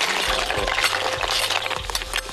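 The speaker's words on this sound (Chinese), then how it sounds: "田螺下锅" River snails tumble into a wok with a dense, rattling clatter of shells against metal, continuous and close, with no voices.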